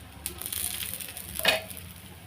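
Obbattu, a sweet stuffed flatbread, frying in oil on a hot griddle, giving a steady close sizzle and crackle with a brief louder spatter partway through.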